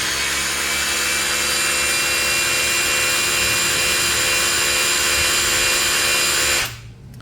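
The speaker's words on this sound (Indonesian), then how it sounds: "kita akan lihat berapa RPM maksimal dari mesin rotary hammer ini" A DCA ADZC04-24 brushless rotary hammer, battery-powered, spins up in plain drilling mode at full speed, a loud steady motor whine and buzz held for nearly seven seconds before cutting off and dropping away.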